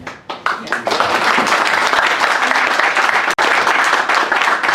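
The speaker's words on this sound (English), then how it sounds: "A quick round of applause." At a reunion Q&A session, an audience breaks into loud applause. A few separate claps build quickly into a full, dense round of clapping that continues steadily to the end.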